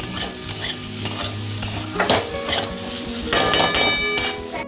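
Potatoes fry in a pan with a close sizzle, broken by repeated scraping stirs of a utensil against the metal.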